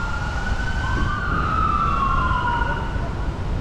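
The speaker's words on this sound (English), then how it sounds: "turn the siren off" A wailing emergency vehicle siren rises and falls at Cumberland Falls, sweeping in pitch over steady background rumble, fairly close.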